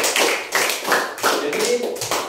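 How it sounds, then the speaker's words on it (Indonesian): An audience claps hands in short, uneven bursts of applause, fairly close and loud, with pauses between the bursts. "Tepuk tangan untuk Kak Jila."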